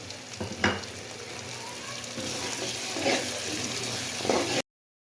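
A steady, close sizzle of onion-tomato masala with salt and red chili frying in a pan, with a few brief scrapes of stirring breaking through.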